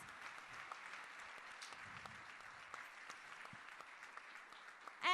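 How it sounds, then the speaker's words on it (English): Steady applause from an audience at a city State of the City address, sustained clapping at an even level throughout, with no talking over it. "let's give that guy a round of applause"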